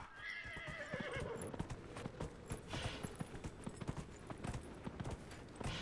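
Horse galloping in Dragon Age: Inquisition, a fast rapid run of hoof clip-clops with a short whinny near the start, loud and close, with no voices over it.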